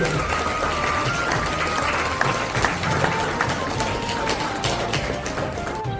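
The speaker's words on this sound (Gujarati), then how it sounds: "ચાલો જોરદાર તાળીઓ સાથે આજના ગ્રેન્ડ સમારોહની શુભ શરૂઆત કરીએ." Audience applause fills a grand ceremony hall in Vadodara, a dense, steady wash of clapping from a crowd that runs the whole stretch at fairly loud level, with a faint tonal hum beneath it.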